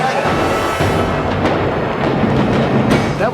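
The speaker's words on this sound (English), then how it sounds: "That was a nice explosion." Film special-effects explosion set off with a striker board during a shoot for T2 3D: Battle Across Time, a loud, sustained roaring blast with crackling bursts that fills the whole clip.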